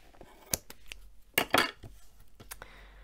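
Scissors snip foam tape for a handmade card in a few quick, close cuts with light clicks and rustles, alone in a quiet room.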